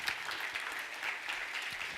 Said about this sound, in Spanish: Le da ese aplauso fuerte.